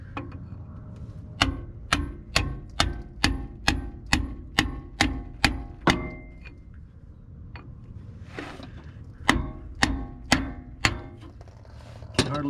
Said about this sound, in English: Can hardly find a place to swing the hammer down here.